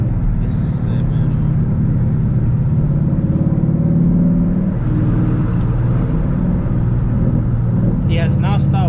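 A Ford Mustang 5.0 with a manual gearbox rumbles loudly and continuously from inside the cabin while being driven on a canyon road, with people talking over the engine throughout.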